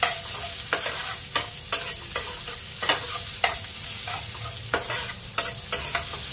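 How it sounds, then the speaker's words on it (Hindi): Finely chopped onion frying in oil in a pan, a continuous close sizzle broken by regular scraping knocks of a spatula stirring, with no voices. "इसको डाल करके डार्क ब्राउन इसको भून लेंगे"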